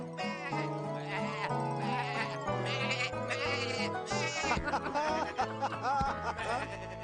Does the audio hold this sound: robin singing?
no